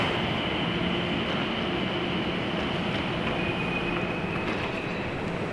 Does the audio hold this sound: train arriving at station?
yes